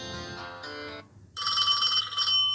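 A ringtone plays through the dual top and bottom speakers of an Infinix Hot 12 phone: a moderately loud electronic melody of chiming tones, with a short gap before a brighter, higher ringing phrase, and no talk over it.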